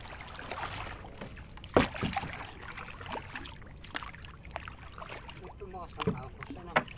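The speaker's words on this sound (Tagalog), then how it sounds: "Lakas na agos ah." Strong river current flows around a small boat during night fishing, a steady low rush broken by sharp knocks and splashes against the hull, with people talking now and then.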